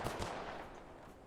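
SMG gunfire in the survival shooter The Last Haven: a quick pair of muffled, fairly quiet shots right at the start, trailing off into a soft rumbling decay.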